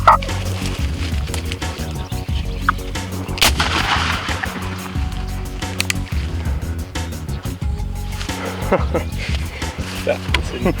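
Muzzleloading shotgun fired at a turkey during a spring hunt in brushy woods, a sharp loud report standing out amid busy outdoor noise, with people talking around it.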